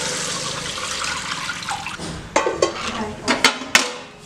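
Fish curry gravy is poured over sautéed tomatoes in a village-style kitchen, a continuous liquid rush and splash followed by several clanks of a utensil against the pot.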